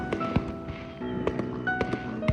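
Saturday-night fireworks in front of the Hilton hotel at American Village, Okinawa, burst as four sharp, distant bangs spaced about a second apart over a steady ambient hum.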